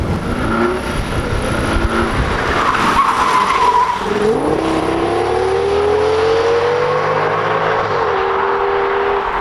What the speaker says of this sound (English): The low-down grunt just pulls the massive sedan away